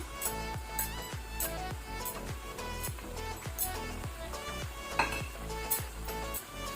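Spring onion greens being stirred into prawn masala in a pan, with a steady sizzle and repeated scraping strokes of a spoon against the pan in an even rhythm, close and moderately loud, with no talk.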